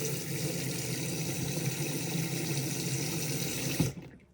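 Cold water running steadily from a motorhome sink tap with the water pump on, a continuous close rush that stops abruptly near the end.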